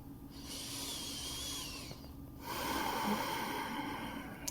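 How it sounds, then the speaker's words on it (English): Slow, deep breaths during a prenatal yoga session, with soft airy inhales and exhales close to the microphone, faint and unhurried with no talking. "just take some deep breaths"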